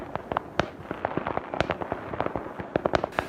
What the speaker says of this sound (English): that looks like 4th of July fireworks